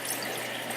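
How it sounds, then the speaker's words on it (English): Tap water runs steadily over a raw turkey being rinsed, a continuous close hiss of flowing and splashing water with no pauses. "I'm just gonna rinse this turkey"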